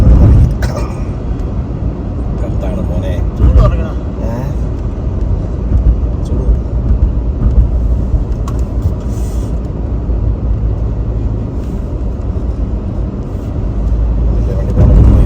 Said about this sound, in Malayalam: ഇതാ പോകുന്നു റോബിൻ ബസ്.